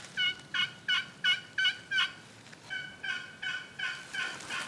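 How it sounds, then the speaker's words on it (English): A wild turkey gobbles repeatedly in rapid bursts during a turkey hunt; it sits about 150 yards off, with rain in the air, and the calls sound distant and moderately faint against a quiet outdoor background. "a turkey gobbled, like, I don't know, 150 yards away"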